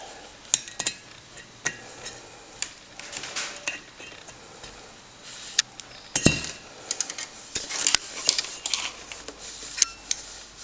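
Pliers remove a spring clip from a TRS-80 Model 3 or 4 CRT, producing scattered close metallic clinks, taps and scrapes at an irregular pace with no speech.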